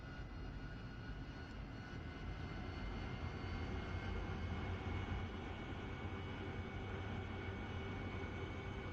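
AV-8B Harrier jet engine in the DCS flight simulator throttling up for a take-off from a ship: a dense, steady roar that swells slightly and holds loud and close throughout, with no voices.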